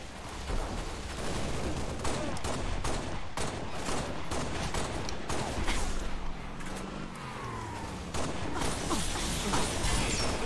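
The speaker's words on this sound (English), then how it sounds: "why does everyone have that rifle?" Rifle fire in a Halo match crackles in dense, rapid bursts of shots close by, layered with explosions and game effects and continuing almost without a break.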